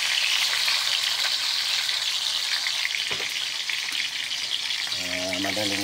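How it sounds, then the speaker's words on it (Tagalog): Eggplant slices frying in a hot pan, a steady loud sizzle with crackling spatters throughout, and a low hum joining near the end. "Pritong talong"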